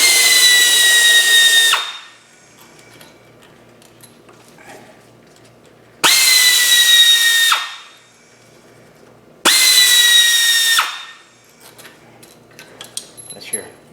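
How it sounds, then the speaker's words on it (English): A power tool on a VW/Audi engine backs out three Torx bolts in three loud, high-pitched whirring bursts of about two seconds each, separated by quiet gaps with faint clinks. "Now we can just rip our three bolts out, and we'll be confident we're not going to have a problem."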